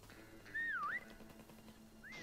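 A player whistles in a prop hunt video game: one clear rising-and-falling whistle, loud and close, over quiet game ambience, with a faint second chirp near the end.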